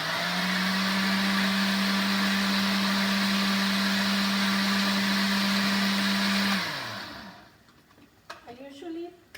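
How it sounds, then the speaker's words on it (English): Kitchen blender whirring steadily as it purees roasted green chiles with stems removed, a loud continuous motor drone that runs for several seconds, then cuts off and winds down, leaving quiet handling noises. "I'm gonna add it to my blender"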